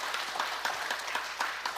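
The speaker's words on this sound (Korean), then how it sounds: "한번 격려의 박수 해주시고" A church congregation claps in encouragement during a Sunday worship service, a short steady patter of many hands with faint individual claps standing out.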